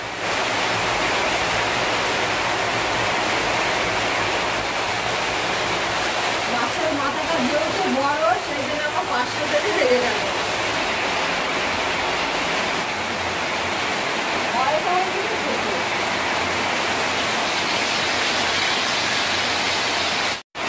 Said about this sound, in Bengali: বাইরে ভীষণ বৃষ্টি হচ্ছে, সব জায়গাতেই বৃষ্টি হচ্ছে এখন।